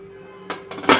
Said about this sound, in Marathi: कुकरचं जे झाकण आहे ते लावून घेते